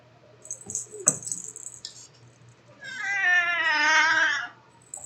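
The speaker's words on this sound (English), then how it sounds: "My cat had to get here." Pet cat meowing close by, a long drawn-out rising and falling meow after some faint clinking and a brief rattle, loud and clear with no talk over it.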